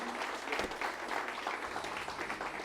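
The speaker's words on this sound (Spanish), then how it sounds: "Den un aplauso fuerte al Señor" A church congregation breaks into strong applause after a prayer's amen, a dense, steady wash of many hands clapping together, fairly close and continuous, with no voices standing out over it.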